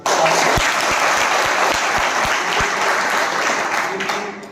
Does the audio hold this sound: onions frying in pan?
no